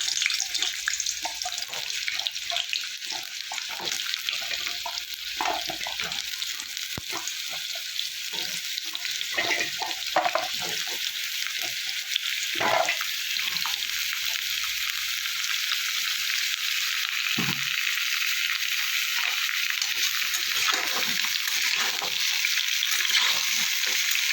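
Cut raw papaya and potato hiss and sizzle steadily in hot mustard oil, a loud continuous frying crackle close up with occasional stirring clinks, no talking.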